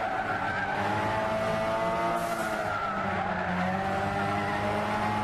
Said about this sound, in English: JV also braking through Maggots and Beckett's.